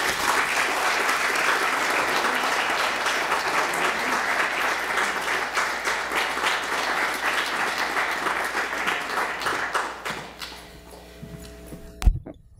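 A seated literary-reading audience at Grinnell applauding to welcome a speaker, dense sustained clapping from many hands that thins and fades near the end, followed by a single sharp thump.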